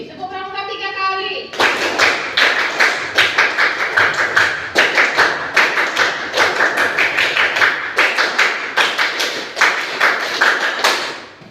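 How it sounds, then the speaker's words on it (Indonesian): Schoolchildren in a classroom perform the scout clap, tepuk pramuka, three times over, a long run of loud, crisp, patterned group claps in steady rhythmic bursts, with a teacher speaking briefly at the start. "Oke, tepuk pramuka 3 kali."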